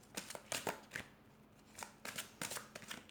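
Tarot cards being shuffled by hand in a past-life reading session, giving a series of crisp riffling bursts separated by short pauses, close and moderately quiet with no talking.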